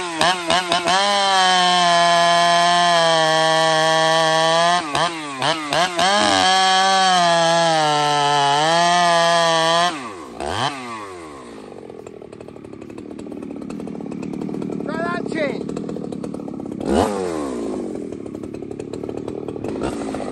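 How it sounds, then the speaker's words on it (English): A 72cc chainsaw used as a bucking saw, fitted with a custom muffler and pipe, screams at high revs close by, then drops off abruptly and revs up again in short bursts. "Buckin saw now. This is the saw that Tin Man built for him. It's a 72cc, and it's got my first muffler"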